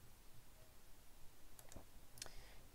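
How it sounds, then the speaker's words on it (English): Calculator keys are pressed, giving a few soft, quick clicks close by against a quiet background. "you type in on your calculator"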